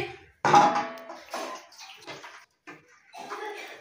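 Potato and live catla fish curry is poured from a cooking pot, giving several short splashing, gurgling pours separated by brief pauses.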